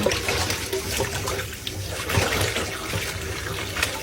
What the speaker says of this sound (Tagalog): Hugasan natin ng maigi guys hanggang sa luminaw yung tubig.